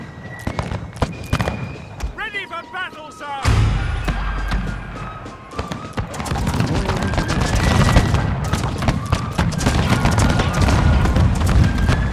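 Musket volleys and grenade blasts roar through a Total War Carlist Wars mod battle, with dense crackling gunfire and booms building into a continuous loud barrage, briefly interrupted by a short musical flourish.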